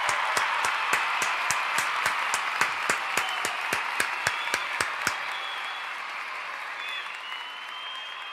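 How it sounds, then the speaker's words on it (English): A round of applause is mixed with a regular run of sharp, evenly spaced claps that stops after about five seconds, leaving a softer crowd wash that fades out. "Another round of applause to FN Raw."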